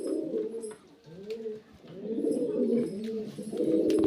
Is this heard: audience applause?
no